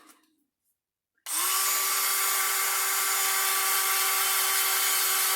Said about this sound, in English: I'm going to grind my platforms in and make my life way easier.